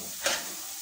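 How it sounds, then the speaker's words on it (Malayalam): Chicken curry masala being stirred in a pan, a single short scrape of the spoon over a soft sizzle, close and fairly quiet. "ഇനി ഇത്രയും ചേർത്തൊന്ന് ഇളക്കട്ടെ"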